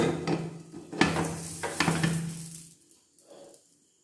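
A metal pressure cooker lid is set on and fastened while cooking ration rice on a low flame. It gives several sharp metallic clanks and scraping knocks over a few seconds, then goes quiet.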